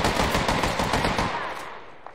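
Automatic weapon fire in Apex Legends, a loud continuous burst of rapid shots that fades toward the end.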